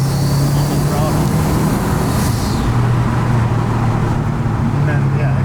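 A track-built Subaru STI engine drones loudly and steadily from inside the car under throttle, a low constant hum with road noise, while a person talks over it.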